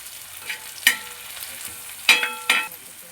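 Onion, garlic and tomato frying in a pan for pithla, a soft steady sizzle broken by several sharp stirring scrapes and clinks of a spoon against the pan.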